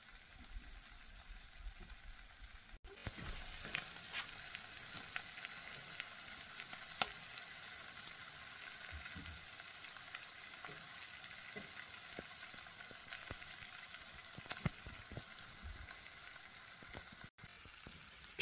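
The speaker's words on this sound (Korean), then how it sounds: "고등어는 기름이 많은 생선이라 익으면서 지글지글 소리가 납니다." Mackerel, an oily fish, grilling with a steady, close crackling sizzle and dense spitting pops throughout, without any talk.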